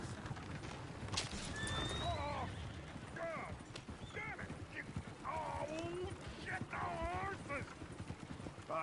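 A horse in the Red Dead Redemption 2 video game gives several loud whinnies over steady clip-clopping hooves, with a voice talking over the scene.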